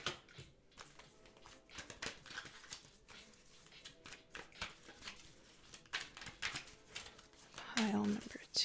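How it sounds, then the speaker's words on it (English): Tarot cards being shuffled by hand, a soft run of riffling and papery flicks close by, with a voice talking over much of it. "But let's do some shuffling."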